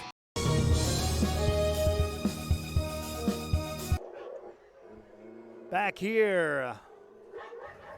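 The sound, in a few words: dogs barking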